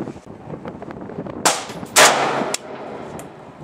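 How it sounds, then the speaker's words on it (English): A few AK74 rifle shots fired at a distant 500-yard target on an outdoor range: two sharp cracks close together, each with a brief echoing tail, then a fainter third report, over light wind and ambient hiss. "I'm gonna shoot my 74"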